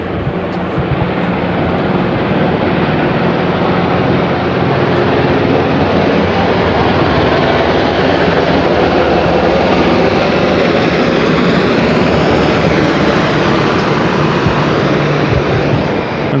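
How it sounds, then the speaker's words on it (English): Several Navy helicopters passing overhead during a harbor parade of ships on the Hudson River: a loud, continuous, broadband rotor and engine roar that stays steady throughout, with no talking. "Now we've got a number of helicopters coming by."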